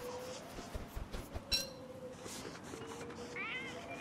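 Catcoon meows from the video game Don't Starve, several short cat-like calls scattered over a soft game background, with a player's voice faintly nearby.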